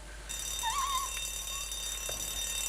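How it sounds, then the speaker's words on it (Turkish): An alarm rings in the horror video game DayLight, a steady faint electronic tone over a constant hum, with a brief warbling beep early on and no talking. "Alarm çalıyor, alarm çalıyor"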